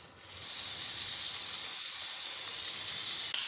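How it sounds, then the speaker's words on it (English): A seasoned steak lands in a frying pan on high heat and sears with a loud, steady sizzle that starts abruptly and holds unbroken, close and without speech. "then add the steak to the pan, season side down"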